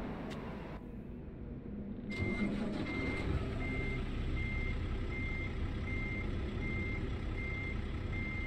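A Peterbilt 579 truck in American Truck Simulator fires up, and its engine settles into a steady, loud idle rumble. A regular series of reversing beeps sounds over it.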